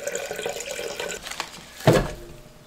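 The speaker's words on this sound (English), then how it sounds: "I am going to add a little bit more water" Water poured from a container to top up a jar of plant cuttings, a close, steady trickle with a brief louder splash near the end, no talking.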